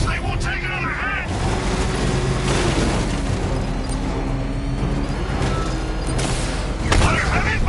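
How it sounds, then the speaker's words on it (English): Dense gunfire and booming blasts from Batman Arkham Knight rattle on in sustained bursts, loud and close, with shouted voices mixed in over the shooting. "I'm taking enemy fire!"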